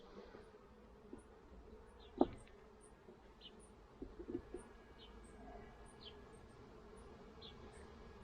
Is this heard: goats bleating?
no